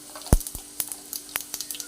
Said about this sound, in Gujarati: એની અંદર રાઈ અને જીરુંનો વઘાર કરીશું